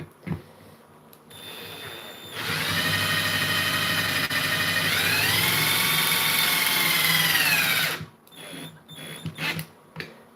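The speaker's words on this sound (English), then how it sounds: "I'm just going to put this screw in on this side and just hold the thing together" An OPAL power drill whirs loudly for about five seconds, its pitch dipping then rising as it drives a screw, with quiet handling noises before and after.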